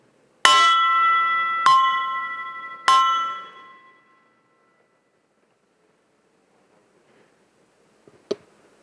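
A gong struck three times at an Eagles Club ceremony, each ringing hit loud and resonant, spaced about a second apart and fading out slowly, followed by silence and one faint clink.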